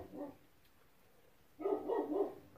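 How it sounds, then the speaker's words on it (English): A dog barks nearby indoors, one short bark followed after a pause by a louder burst of rapid barking. "don't mind the dog"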